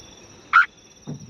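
A single frog calling from rock crevices gives one short, clear call, followed by a fainter low call, in an otherwise quiet setting.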